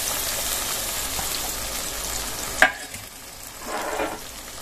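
Tomatoes go into hot oil with ginger, cumin and chili paste. A loud sizzle softens after a sharp clatter midway, then a quieter frying hiss continues close by with a brief swell near the end.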